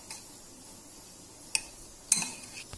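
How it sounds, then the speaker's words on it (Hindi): A spoon mixing masala corn chaat in a bowl gives a few faint, brief clinks against a quiet background, with two small knocks close together near the end. "अब इसको अच्छे से मिक्स करेंगे।"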